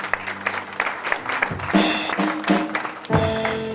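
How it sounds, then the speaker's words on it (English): Applause from an evening awards audience greets finalist Gerald Tenua, rising in bursts of clapping over steady music with a low, sustained tone. "Let's give Gerald a round of applause"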